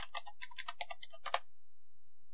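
Quick run of computer keyboard keystrokes as a password is entered during a Linux update, a dozen or so clicks ending in a firmer double tap, close and clear with no talking.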